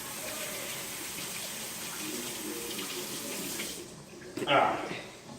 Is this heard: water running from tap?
yes